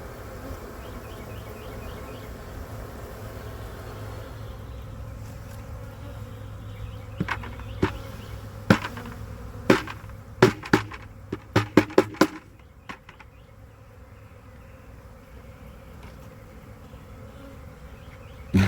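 A small honeybee colony being removed from under a house gives a steady low buzzing drone throughout, with a cluster of sharp knocks and taps partway through, and no talking.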